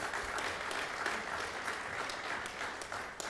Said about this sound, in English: One more clap, thank you.